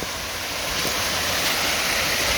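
A waterfall on a mountain river in Mt Mitchell State Park, a loud continuous broadband rush of falling water, close and unbroken, with no voices.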